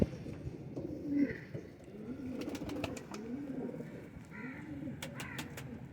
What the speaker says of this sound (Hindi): ये एक ही घर से आए हुए कबूतर हैं सारे दोस्तों